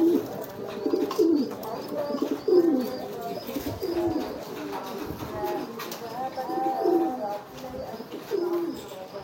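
Domestic pigeons cooing repeatedly at close range, kept by a breeder while the hens sit on their eggs, with overlapping throaty coos and a male giving loud courtship calls; someone talks intermittently over them.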